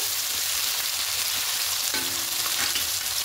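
Sliced onions fry for birista in a pan, giving a constant loud sizzle with a few stirring scrapes near the end, close up and with no voices.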